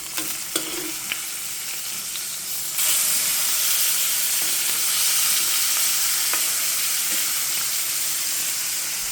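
Pork chops sizzling in a large skillet, a few utensil clinks, then a loud, dense, steady hiss that swells as the chops are flipped and keeps going close by, with no voices.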